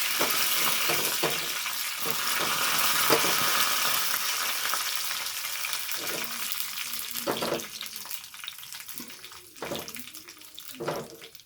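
Dried chillies and curry leaves sizzle in hot oil with mustard seeds for a mango pachadi tempering, a loud, steady spitting hiss with occasional stirring knocks as the crackle settles.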